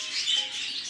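Small budgerigars chirping in a breeding stud, a brief burst of faint, high twittering calls with no voices.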